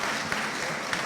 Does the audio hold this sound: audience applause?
yes